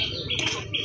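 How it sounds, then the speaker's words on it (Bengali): Madrasi pigeons at a loft, with a short close cooing burst of soft throaty warbling lasting under a second, heard alone without talk. "আক্তারুল ভাইয়ের কিছু পায়রা সেল করার আছে।"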